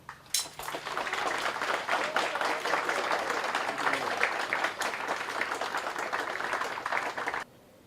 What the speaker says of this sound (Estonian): Pinsileikamine võib alata. Aplaus.